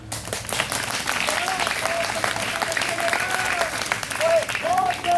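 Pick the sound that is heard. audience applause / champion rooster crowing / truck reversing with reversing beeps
audience applause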